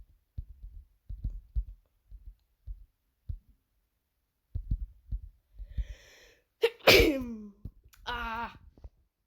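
A single loud, sharp sneeze bursts out close to the mic, preceded by a faint inhaling catch and followed by a brief breathy aftersound, after a stretch of quiet low thumps.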